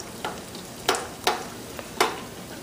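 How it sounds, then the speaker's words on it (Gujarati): Mandazi dough frying in hot oil while a spoon ladles oil over it, a low steady sizzle broken by four sharp splashy bursts spaced irregularly. "ને તરવા માટે જ્યારે તમે તરતા હો ત્યારે ખાલી ચમચા સાથે તમે તેલ ઉપર નાખજો"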